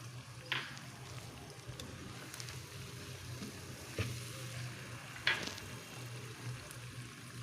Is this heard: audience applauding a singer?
no